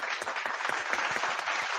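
Short canned applause from a soundboard, a steady wash of many hands clapping at moderate volume with no voices over it.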